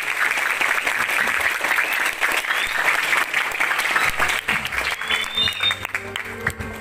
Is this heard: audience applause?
yes